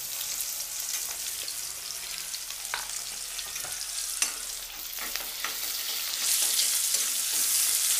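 Chopped onion pieces fry in a pan for a brinjal and potato curry, a steady bright sizzle with occasional stirring scrapes, growing slightly louder toward the end.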